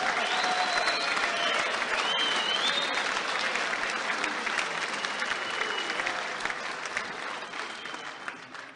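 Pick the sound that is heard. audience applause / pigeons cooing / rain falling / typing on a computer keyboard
audience applause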